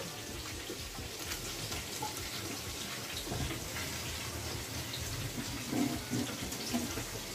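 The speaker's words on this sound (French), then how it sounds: "On ajoute aussi ici un verre d'eau." Water poured from a glass into a pan of braised fish being cooked Cameroonian style, a steady, soft splashing stream running throughout with a couple of small clinks near the end.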